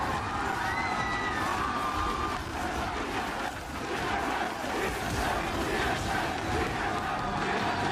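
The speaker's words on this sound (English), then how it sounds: "Listen to that crowd." A large esports arena crowd at a League of Legends match roars and cheers, with whoops and shouts rising over a dense, continuous wall of crowd noise that stays loud throughout.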